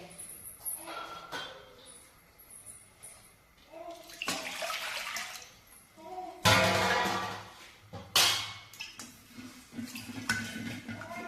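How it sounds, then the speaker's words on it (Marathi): Water is poured from a vessel into a pan of mashed pav bhaji vegetable mixture in a home kitchen, with splashing bursts, a clank of metal cookware, and quieter stirring noises, close and fairly soft. "आता आपण गरजेप्रमाणे त्यामध्ये पाणी ऍड केलेलं आहे।"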